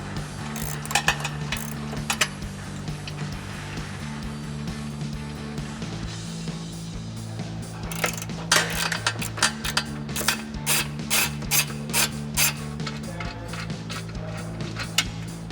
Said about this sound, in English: We're gonna use an 18mm deep socket to remove those.